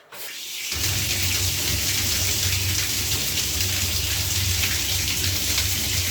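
Muddy water gushing steadily out of a home heating radiator during a flush, a loud, continuous rushing splash that starts abruptly and holds unbroken, with a low hum beneath it.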